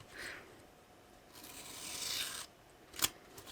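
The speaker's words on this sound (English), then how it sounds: "Let's see if I do a better job with the craft knife here." A craft knife cutting through paper, giving faint scraping strokes with a sharper scratch near the end, quiet and close with no talking.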